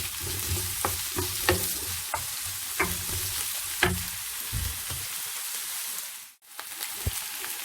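Onion frying in a pan for a bacon, potato and cherry tomato frittata, a steady soft sizzle broken by several sharp scraping stirs, then a brief drop before the sizzling resumes.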